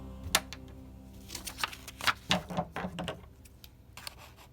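Paper is cut out into a star shape for a pop-up Christmas card, with a series of close, crisp scissor snips coming in irregular bursts.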